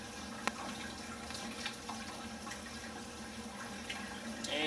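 Water swirls and sloshes as a cyanobacteria treatment solution for a red slime problem is stirred by hand in a container, a steady close wash with a few small clicks and splashes.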